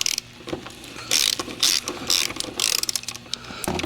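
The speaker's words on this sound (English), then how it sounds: "if we use a wobble socket and a wobble joint of 13mm, we can get those two" A hand ratchet on a 13mm wobble socket loosening starter bolts on a 2007 Mercedes five-cylinder diesel: a few rapid bursts of close, crisp clicking pawl strokes with short pauses between.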